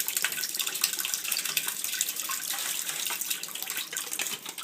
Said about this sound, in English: So then I'm going to fill it up with water.